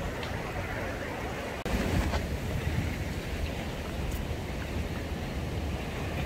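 Waves wash onto a beach in a steady, close, unbroken roar of surf. Wind noise adds to it, and the level jumps slightly partway through.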